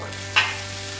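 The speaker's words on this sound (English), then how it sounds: "place the vermicelli in the wok. Stir fry over low heat." Rice vermicelli stir-fried over low heat in a wok for Singapore noodles: a soft steady sizzle with one sharp scrape of a utensil against the wok partway through.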